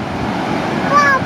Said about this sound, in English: It's the ocean.